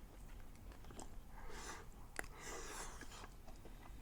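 Close, quiet biting and chewing of crispy, salty-spicy lemongrass pork belly: crunchy, moist munching in short bursts with one sharp crack, no talking.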